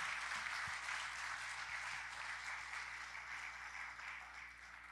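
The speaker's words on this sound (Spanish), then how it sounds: "¿Cuánto le dan un fuerte aplauso a este Dios" Full congregation applause at a men's church conference, a continuous wash of many hands clapping at moderate distance, steady from start to finish with a few faint low thumps beneath.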